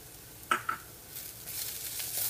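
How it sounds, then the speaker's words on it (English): Dry curry leaves and dry shrimp drop into a frying pan. Two quick soft clinks are followed by a rising, steady sizzle of frying, close and moderately quiet, with no talking. "I can add in my dry curry leaves, as well as the dry shrimp"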